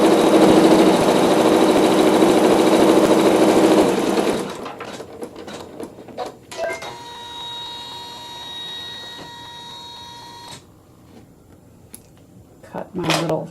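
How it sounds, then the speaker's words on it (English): A sewing machine stitches a fabric seam in a loud, steady whir for about four seconds, then stops, leaving quieter scattered clicks and handling sounds. "now I'm sewing the seam."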